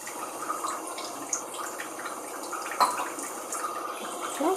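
Water pours into moong dal batter for Gujarati pudla, a steady close splashing trickle with a few small bubbling spikes, alone without any talk.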